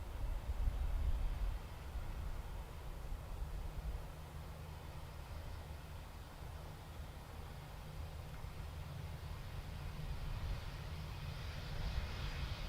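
A Delta airliner passes close at Dublin Airport, a faint, steady low engine rumble with a brief louder swell at the start and a slight rise near the end, with no voices.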